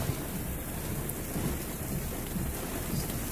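Heavy pouring rain during a storm, a steady dense roar of falling water with low rumbling underneath, continuous and close throughout.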